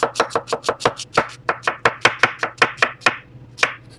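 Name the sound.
knife making julienne cuts on an onion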